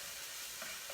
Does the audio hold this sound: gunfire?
no